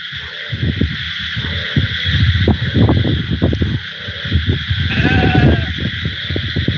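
A large flock of around three hundred sheep on a free-grazing farm, bleating continuously in many overlapping voices, loud and close with a steady din of calls throughout.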